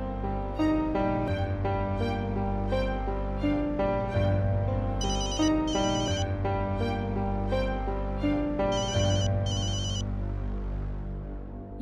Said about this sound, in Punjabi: UV the phone.